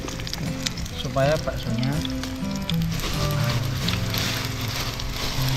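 Shallots frying in oil for fried onions on a mountain camping trip give a steady sizzle and crackle throughout, with people chatting over the cooking.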